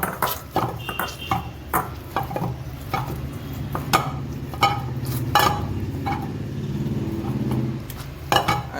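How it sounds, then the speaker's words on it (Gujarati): Oil is worked into bhakri flour dough by hand, giving a steady run of soft mixing, scraping and clinks against a bowl, with repeated short knocks and no talking. "તેલ નાખીને આપણે એને મિક્સ કરી દઈશું।"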